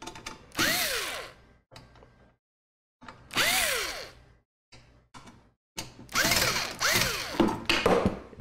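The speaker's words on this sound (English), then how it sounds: "All we have to do is loosen these screws." A power screwdriver loosens screws on a PC part in several bursts, each a close whirring spin with rising and falling pitch, separated by short pauses and small clicks.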